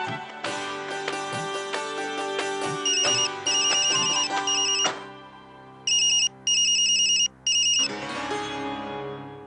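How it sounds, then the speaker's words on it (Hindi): A ringtone melody plays loudly for several seconds, then switches to repeated electronic bursts of ringing with short pauses between them. "महादेवी का फोन था।"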